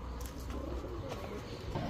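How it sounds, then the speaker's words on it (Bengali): High-flyer Giribaz pigeons coo softly in a loft, faint low murmuring calls repeating over quiet background noise. "একদম 2500 টাকায় 4 জোড়া হাইফ্লায়ার গিরিবাজ কবুতর।"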